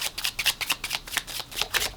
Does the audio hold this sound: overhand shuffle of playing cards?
yes